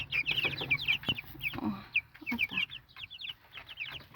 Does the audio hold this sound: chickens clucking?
yes